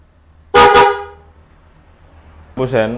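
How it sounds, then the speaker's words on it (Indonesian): Liebherr horn fitted to a Honda CB125 motorcycle giving two short, loud, close honks about two seconds apart, with quiet engine background between them. "Wih, cukup kencang ya ini suaranya klaksonnya."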